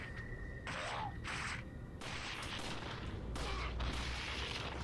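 Gunfire in Resident Evil 4 VR: a handful of sharp shots ring out in separate bursts with echoing tails, mid-loud over a low steady game ambience, with no talking.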